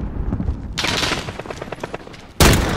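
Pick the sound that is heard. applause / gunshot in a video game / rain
gunshot in a video game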